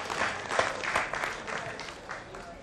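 An audience at a medical college reunion debate clapping, a dense burst of applause close by that gradually fades over a few seconds, with faint voices mixed in.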